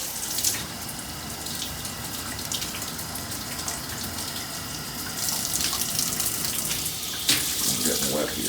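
A hotel shower at a Holiday Inn Express & Suites in Gadsden, Alabama sprays steadily, a close, continuous hiss of water that grows louder partway through, with faint handling noises and a brief voice.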